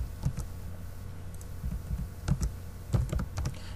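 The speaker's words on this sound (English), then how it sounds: "I can just type in the numbers here," Keys on a computer keyboard are tapped in quick, uneven bursts of soft clicks, close and fairly quiet, with short pauses between groups of keystrokes.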